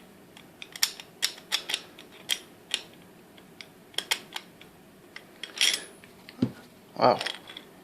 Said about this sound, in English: I never had such a hard time unscrewing a screw.